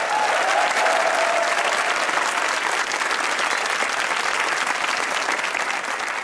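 A studio audience at a comedy talk show claps steadily, a dense wash of applause that stays loud and even for several seconds.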